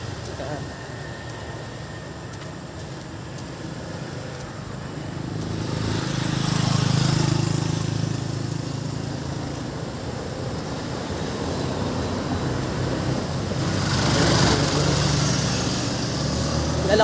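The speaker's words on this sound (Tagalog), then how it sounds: "di nyo marinig kasi madaming dadaan ng motor dito." An engine drones in the background, swelling twice as motorbikes pass nearby in a Nevada Gentri subdivision in Cavite, Philippines, then fading, over a steady low rumble.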